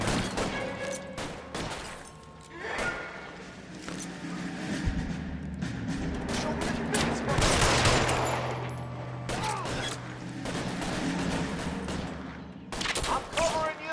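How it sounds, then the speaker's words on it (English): Video-game covering fire: a dense, continuous clatter of gunshots and bursts keeps going for many seconds, loud and busy, with voices talking in places. "Lay down some covering fire."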